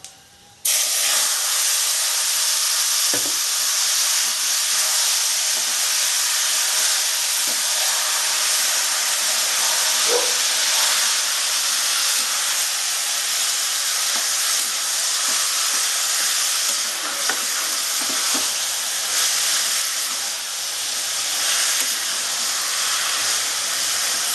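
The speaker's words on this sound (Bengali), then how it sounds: "এটা ফুটে গেছে আমি এবার বাঁধাকপিটা এটা দিয়ে দিচ্ছি" Shredded cabbage drops into a boiling pot with a sudden loud rush of steam and sizzling hiss that begins abruptly and then holds steady and close, with faint clinks scattered through it.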